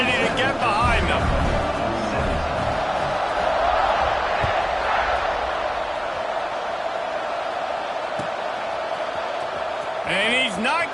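Stadium crowd at a college football game between Vanderbilt and Ole Miss, a loud sustained roar of cheering at fourth-quarter kickoff, with a commentator talking over it and whistle-like tones at the start and end.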